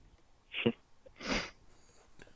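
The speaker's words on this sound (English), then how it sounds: "Achoo." A single person sneezes twice, two sharp bursts about a second apart, close and fairly loud against a quiet background, with a faint sniff afterward.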